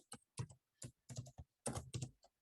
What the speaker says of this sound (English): here I type host name